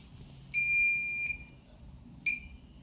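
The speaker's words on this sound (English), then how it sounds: "If a person is there, it gives signal and then the buzzer and the LEDs start switching on." A small home security alarm buzzer, set off by an IR motion sensor, sounds one loud, piercing tone for under a second, then gives a second short beep after a pause, with near silence between.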